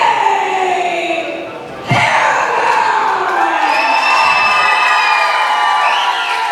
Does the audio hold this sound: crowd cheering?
yes